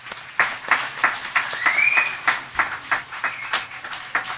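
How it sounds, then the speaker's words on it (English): Audience applause at a one-day peace event, a modest crowd clapping in a loose rhythm of distinct, fairly close claps that rise and fall, with a brief whistle-like tone partway through. "Let's give them another round of applause."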